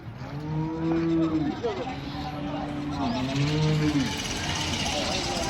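A calf at the Chalisgaon cattle market moos repeatedly in long, drawn-out calls, close by, with a low engine rumble and some talking in the background.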